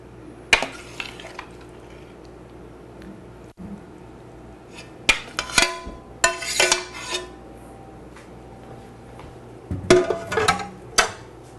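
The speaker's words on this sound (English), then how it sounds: "start spooning into my pie. And I'm going to go ahead and put a scoop in there." A spoon scoops filling into a pie with scattered metallic clinks and scrapes against a dish, a few isolated clusters of close, light kitchen clatter separated by quiet gaps.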